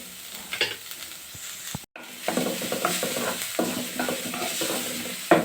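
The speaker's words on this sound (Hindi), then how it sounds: "अब इसे भी गाजर को आधा मिनट प्याज के साथ पका लेंगे।" Chopped carrot and onion cook in a pan with a steady sizzle under repeated scraping, clacking stirs, a brief pause in the middle, then busy stirring again.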